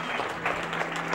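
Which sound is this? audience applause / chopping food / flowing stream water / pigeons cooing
audience applause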